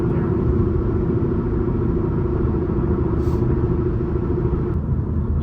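Engine of a manual car, a steady close rumble with a sustained drone that drops off near the end. No distinct blips or rev swings of heel-toe downshifts stand out.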